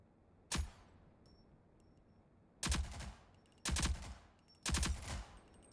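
Automatic gunfire rings out on a firing range in the Rogue Company tutorial on Nintendo Switch: one short burst, then three sharp, loud bursts in quick succession, separated by quiet gaps.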